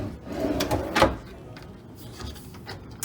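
A desk drawer in a hotel room is pulled open with a couple of sliding knocks and a short scrape near the start, followed by quieter room tone with faint handling.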